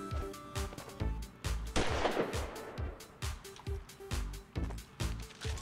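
Machine gun fire in the video game Action Alien: Tropical Mayhem crackles in steady repeated bursts of rapid shots, with a louder blast in the middle. The shots sound close and punchy over a low, constant game soundtrack.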